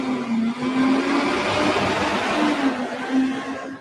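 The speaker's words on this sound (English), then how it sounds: "I'm aware that I have a very noisy bus right behind me" A noisy bus engine idles and revs loudly right behind someone standing outdoors in a street, a steady broadband rumble with a droning tone that fills the whole stretch without pause.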